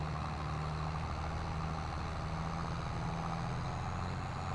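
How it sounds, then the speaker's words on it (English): Tractor engine in Farming Simulator 22 laboring up a hill with a heavy load and flat tyres, a steady low droning rumble that holds constant and fairly quiet throughout, with no voices. "This tractor's really struggling up this hill."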